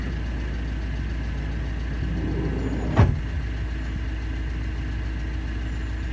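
Van engine droning steadily at a low, even pitch while driving on the road in Germany, with one brief thump near the middle and no voices.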